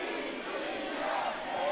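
Protest crowd in Moldova surging toward the entrance of the presidential palace, a dense, steady roar of many voices shouting together at a distance.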